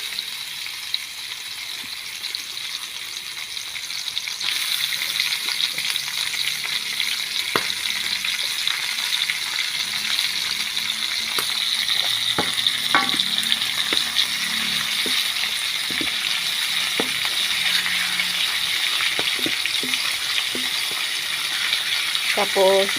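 Pork sizzles and crackles in a hot pan during a home cooking session for a young jackfruit dish, a steady loud hiss with scattered sharp pops and occasional utensil clinks, no voices.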